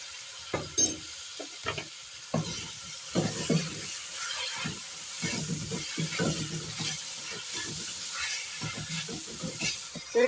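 Vinegar and soy sauce sizzle in a hot pan while cooking for white sauce pasta, a steady close hiss with intermittent stirring scrapes and clatter.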